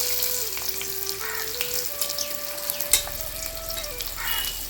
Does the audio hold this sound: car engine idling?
no